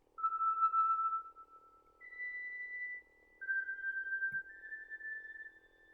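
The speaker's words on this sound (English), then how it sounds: "I want to apply some reverb to it" A series of sustained synth tones from the GEMClub EQUINOX VSTi shifting pitch, each note trailing off into a soft reverberant tail, with a brief low blip midway.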